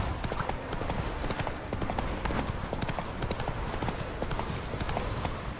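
Hoofbeats of the horse Roach galloping in The Witcher 3 video game, a steady, fast clip-clop rhythm that runs the whole time at a loud, close level, with no talk over it.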